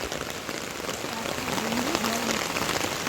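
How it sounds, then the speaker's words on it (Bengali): Steady rain patters on a street, a constant close hiss with a faint tonal whine drifting through the middle. "এখন দেখো রাস্তায় হচ্ছে বৃষ্টি আর আমরা এখন বৃষ্টির মধ্যে বেরিয়েছি"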